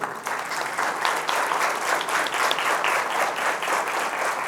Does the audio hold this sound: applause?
yes